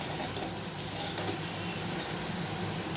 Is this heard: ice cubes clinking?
no